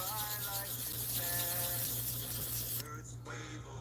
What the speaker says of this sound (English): wet sandpaper